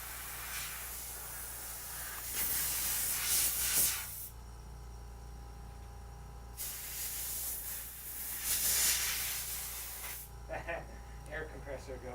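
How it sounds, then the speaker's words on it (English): Bursts of hissing compressed air from an air compressor spray out in two long blasts over a steady low motor hum, followed by short puffs and faint talk, while cleaning under a MacBook's CPU. "What's the noise? Air compressor."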